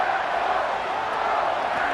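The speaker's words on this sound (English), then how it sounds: "This crowd doing everything they can before third and goal." Stadium crowd cheering at a simulated Madden 25 football game between the Eagles and Packers, a steady, dense roar of many voices, broad and sustained, with no individual words standing out.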